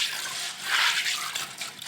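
Water pours and splashes over fava beans being soaked and rinsed, a continuous close, bright rush of liquid.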